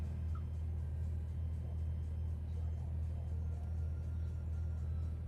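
Steady low road-traffic rumble of idling and creeping cars in a jam on the A1, continuous and close, with no clear speech over it.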